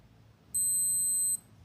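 A single sustained electronic beep from a Casio G-Shock GBA-950 watch timer, a high pure tone lasting under a second, loud and close against faint background noise.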